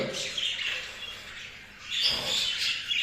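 Caged pet birds chirp and twitter in short overlapping bursts, near and fairly soft, with a quiet lull before a livelier flurry of calls.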